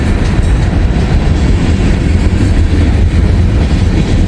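A massive freight train with double DPU locomotives and helpers notched up climbs a huge hill, its loud, close, continuous rumble and grinding roll filling the whole stretch.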